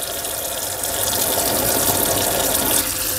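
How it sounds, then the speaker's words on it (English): Hands being rinsed under a running sink tap, a steady close splash and gush of water lasting a few seconds, growing slightly fuller midway, with no voices. "I'm rinsing, ensuring I rinse off all soap."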